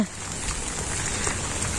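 Rain falling steadily in a village, a soft continuous hiss of drops on surfaces at low volume throughout, with no talking.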